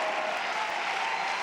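Crowd noise in a tennis stadium during a 2005 US Open third-round match, a dense steady roar of many voices, continuous and loud across the brief moment.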